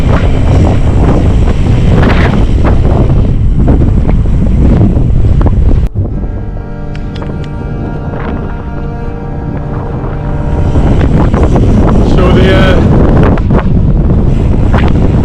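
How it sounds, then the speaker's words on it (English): Strong headwind buffets the microphone of a cyclist riding an ultra-distance transatlantic route, a loud roaring rush that eases briefly midway before building back up to full force. "the headwind is kicking my ass today"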